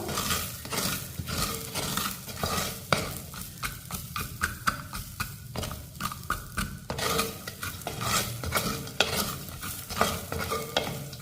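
Vegetables sizzling in a hot pan while being sautéed and stirred, with repeated scraping and clinking of a utensil against the pan in an uneven rhythm.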